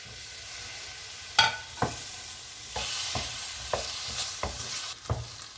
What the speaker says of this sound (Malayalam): ഇനിയും തക്കാളിയും കൂടി ഇട്ടിട്ടൊന്ന് വഴറ്റിയെടുക്കാം